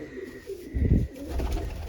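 A pigeon gives a short, low, throaty coo up close among a backyard flock of young birds, with a soft burst of rustling in the middle.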